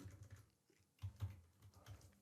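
Keys on a computer keyboard clatter in quick, close taps during a short burst of typing, with a brief pause in the middle.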